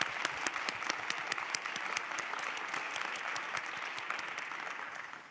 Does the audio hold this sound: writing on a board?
no